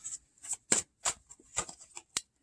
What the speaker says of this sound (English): I'm going to get another shuffle.